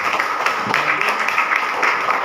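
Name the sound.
audience applause at a seminar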